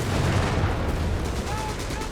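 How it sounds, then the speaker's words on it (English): Heavy machine gun fire in Company of Heroes 3, with bursts and booming battle noise in a continuous loud din, with commentary talk mixed in. "Their commanders are being sprayed with heavy machine gun fire here from Zulu's machine guns."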